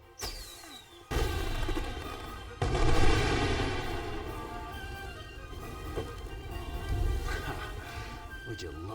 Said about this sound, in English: aim your firework at the sky, not at people